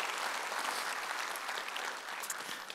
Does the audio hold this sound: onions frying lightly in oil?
no